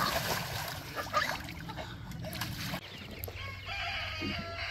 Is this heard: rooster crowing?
yes